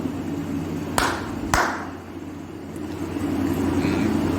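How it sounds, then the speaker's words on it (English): Two sharp hand claps land about half a second apart beside a homemade Arduino sound-sensor car, cutting through a low steady motor hum. "Now clap the sensor"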